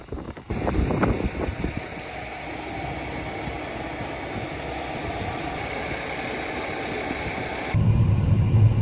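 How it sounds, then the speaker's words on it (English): Steady, rough wind buffeting a microphone outdoors during spring tillage with a Fendt 939 tractor and Horsch Joker, a low rumble running throughout and a brief louder burst near the start. "So don't mind how windy it is"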